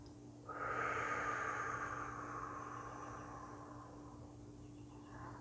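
A long, steady exhale during a guided meditation, a soft airy rush that swells quickly and then fades slowly over several seconds, close and alone over a faint low hum.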